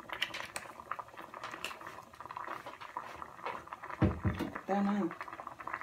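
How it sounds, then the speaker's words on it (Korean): Spaghetti noodles boil in a pot of water beside a pan of tomato sauce, giving a steady bubbling patter throughout with a brief spoken word near the end and clinks of cookware. "옆에서 면이 삶아지는 동안에"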